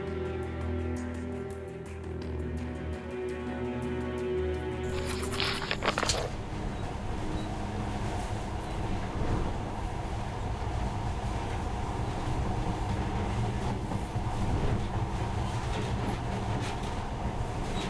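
A monorail train in a video game runs steadily with a continuous rumbling roar that swells in after a few seconds and keeps going.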